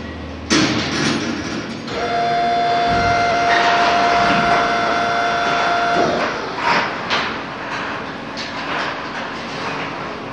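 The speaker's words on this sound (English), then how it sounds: "That was the overhead door closing on the storage system, on the parking system." Overhead door of an automated parking storage system closing, a loud sustained mechanical run of about four seconds with a steady whine, framed by clanks and bangs at start and finish inside an enclosed parking structure.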